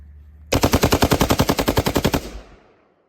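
An AK-105 rifle fires 5.45 rounds in a rapid string of about fifteen sharp, loud shots close by, evenly spaced, ending abruptly with a short decaying echo.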